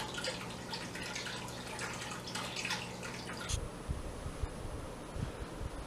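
Water runs steadily as an aquarium tank refills after a water change, a soft continuous trickle and hiss that stops partway through, leaving only faint drips and small knocks in a quiet room.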